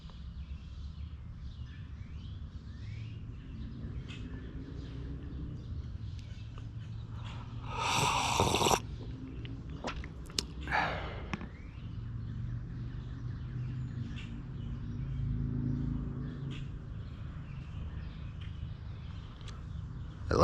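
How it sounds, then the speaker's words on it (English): Outdoors on a cloudy morning patio, birds chirp faintly in the background over a low ambient rumble, with a couple of louder brief rustling bursts in the middle; no distinct woodpecker drumming stands out. "Hear a woodpecker over there."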